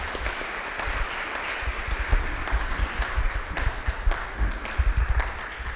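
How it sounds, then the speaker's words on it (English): Audience applause following a talk, a steady dense wash of many hands clapping that continues throughout, fairly loud and unbroken, with no voices standing out over it. "Another round of applause, please."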